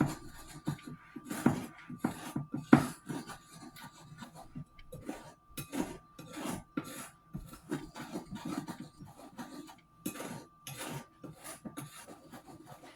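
A utensil scrapes brown sugar from the bottom of a bowl and stirs it into vegan pineapple upside-down cake batter, making repeated close raspy scraping and rubbing strokes in an uneven rhythm with no talking.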